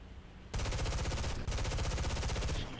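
M3 machine guns blaze on an aircraft in War Thunder: two long, very rapid bursts of dense, even gunfire, close and loud, split by a brief pause after a quiet start.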